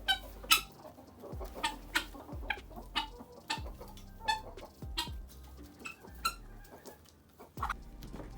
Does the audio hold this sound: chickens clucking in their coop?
yes